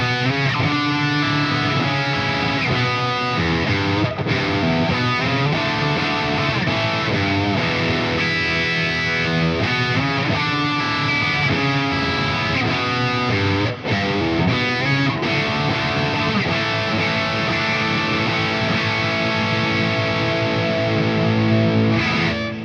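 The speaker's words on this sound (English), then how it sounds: "It's a really beautiful sounding delay." Electric guitar played through a long delay effect in the style of Steve Vai, with distorted, sustained notes and trailing echoes filling the space, loud and continuous throughout with no talking.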